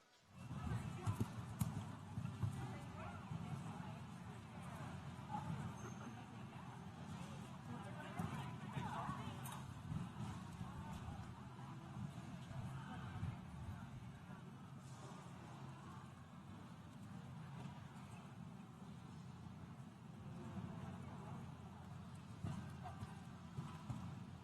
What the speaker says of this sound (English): So any horse that wants to really win will have to start at a pretty strong gallop.